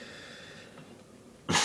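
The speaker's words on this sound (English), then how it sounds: "Sorry, I've got a cough here." Faint breathing and room noise give way to a single sharp, loud cough right at the end.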